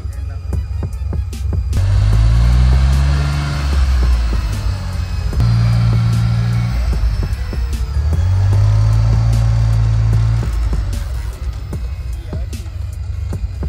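A classic 1985-era car pulls away at a car show in Mexico, its engine droning and rising through several throttle swells, with crowd noise and scattered voices around it.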